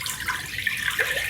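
Water pours steadily into chicken stock in a pot for Korean chicken noodle soup, a close, continuous splashing trickle with brief gurgles and no talk.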